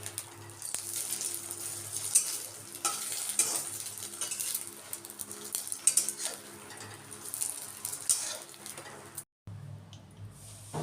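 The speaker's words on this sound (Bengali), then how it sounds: "এখন একে একে আমি ডিমগুলো ভেজে নেব" Eggs fry one by one in a burnt wok for an omelette curry, close sizzling with repeated metallic scrapes of a spatula and utensil clinks, briefly cutting out near the end.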